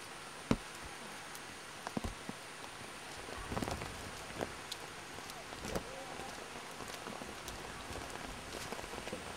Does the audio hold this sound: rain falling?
yes